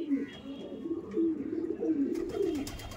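A Nila Sabuj pigeon, an old green Madras breed bird from Kolkata, coos steadily up close in low, rolling, throaty phrases that run unbroken to the end.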